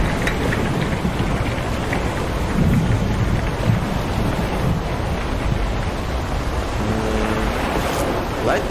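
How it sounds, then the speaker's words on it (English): Rumbling thunder rolls through a steady wash of rain and crashing sea waves during a storm at sea near the ice in the video game The Pale Beyond, dense and continuous, with faint talk beneath. "Lightning flashes to the west, followed by rapturous thunder, underscoring the sounds of the sea."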